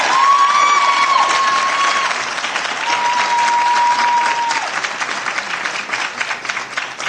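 Audience at a Board of Education meeting breaking into sustained applause, loud dense clapping that holds steady for several seconds before thinning out, with a few voices and a tone sounding over it.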